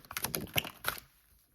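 A deck of tarot cards is shuffled close up, a quick burst of crisp, clicking card flicks lasting about a second before falling quiet.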